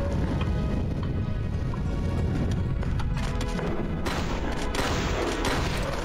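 Shotgun blasts and surrounding combat in the video game Hedon: Bloodrite, a dense, continuous clatter of shots and impacts over a loud, busy game soundscape, with a burst of crisp cracks near the end.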